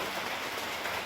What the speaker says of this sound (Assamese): পানী টোপাল কৰি আছে